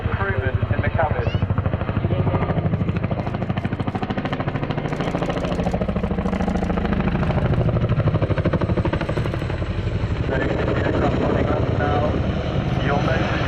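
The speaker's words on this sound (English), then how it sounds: "giving you the chance to really hear that sound of the aircraft" A Chinook helicopter flying a display at the Cosford Airshow, its rotors producing a loud, continuous rapid chopping thud that holds steady throughout, with a commentator's voice over the public address.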